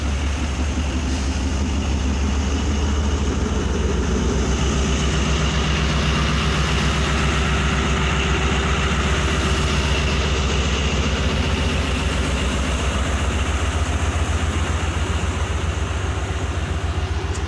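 A passenger train engine runs steadily at Drigh Road junction in Karachi, a loud, constant low diesel rumble and hum with no break, heard up close and alone.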